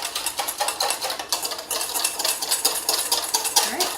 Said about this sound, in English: All right, and I'm going to whisk.